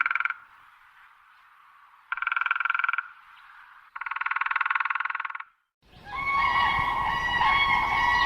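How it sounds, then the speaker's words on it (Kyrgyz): A bittern calling in several sustained, droning tonal bursts separated by quieter stretches, then a louder, denser and harsher call at the end. "Эми тоңкулдак деген канаттууга көңүл бурабыз."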